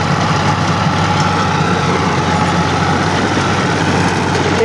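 A tractor engine idling steadily nearby, a loud constant low rumble and vibration that holds without change throughout, with no talking.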